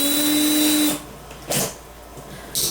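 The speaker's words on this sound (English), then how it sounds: "I'm gonna start off with the smallest drill bit that I have" A power drill runs with the smallest bit, a high steady whine that cuts off after about a second, followed by two brief bursts as the trigger is pressed again, close and loud.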